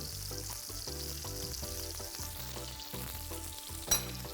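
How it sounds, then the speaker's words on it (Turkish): Mushrooms frying in a pan, giving a steady close sizzle with crackling pops and one sharper spit near the end. "Mantarlarım da kızarıyor"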